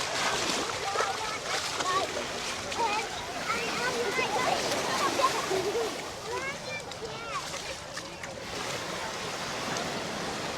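Splashing in the shallow sea water at Siesta Key beach in Florida, an irregular watery slosh over the steady wash of the surf, with people talking nearby throughout.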